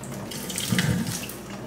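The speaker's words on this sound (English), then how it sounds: "Let's just take out the water." Water from a Viomi V3 Max robot vacuum's water tank pours out in a continuous splashing stream that swells briefly in the middle, close and clear with no talking.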